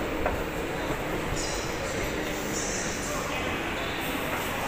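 Busy concourse ambience at Roma Termini station in Italy: a dense, steady wash of crowd murmur and rail noise, with a voice speaking close by over it.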